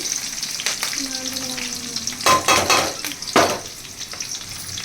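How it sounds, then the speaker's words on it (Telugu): Onions, mint and chillies fry in oil with a cumin tempering, giving a constant hissing sizzle broken by two or three louder bursts of clattering and stirring in the pan, alone without speech. "సో ఆనియన్స్ అయితే బ్రౌన్ కలర్ అయ్యేదాకా వేయించుకున్నాక"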